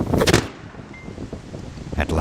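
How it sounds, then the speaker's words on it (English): A sharp burst as cannon nets are fired to trap whooper swans outdoors, with a loud blast at the start followed by wind and rustling, and another heavy thump near the end. "At last, the cannon nets are fired."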